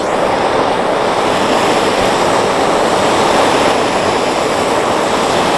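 A propane torch preheating steel plate for MIG welding, a loud, steady, broadband roar of the flame, constant and close throughout with no voices.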